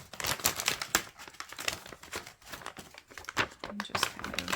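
Paper packaging for a spa day kit crinkles and rustles as it is folded back along its creases, close and continuous, with a person talking over it.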